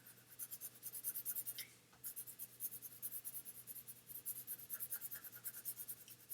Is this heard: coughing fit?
no